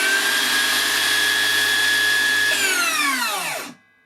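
Makita 40V 270mm track-compatible circular saw whining at a steady high pitch when run free, then spinning down and falling silent near the end.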